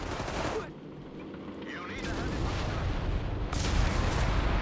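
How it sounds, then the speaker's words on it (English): A barrage of high-explosive rockets landing in the Company of Heroes 3 war game: a loud, continuous roar of overlapping blasts and rumbling, with no gap for several seconds. "Massive swarm of just high explosive rockets there landing from above."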